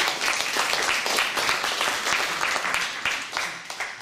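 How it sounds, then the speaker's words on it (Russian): A concert audience applauds performers at a jubilee evening, full steady clapping of a large crowd that holds at a moderate level and tapers slightly toward the end. "Дорогие друзья, аплодисменты."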